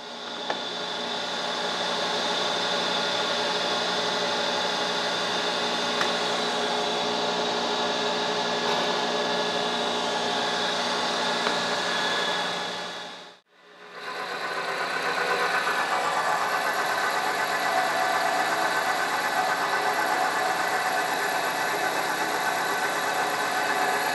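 High-speed steel cutter milling T-slots into an old, rough drill press table, run dry: a steady close whine and grind that stops briefly midway, then resumes for a long even cut.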